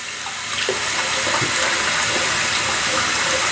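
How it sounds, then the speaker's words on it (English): A bathroom tap runs steadily as a face is rinsed after a shave, with water splashing continuously into the sink close by and a few brief hand splashes over the flow. "let's rinse off the face"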